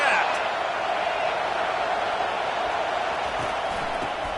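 A dense stadium crowd at a college football game against Texas A&M roars steadily and loudly throughout, a continuous wash of cheering with no breaks.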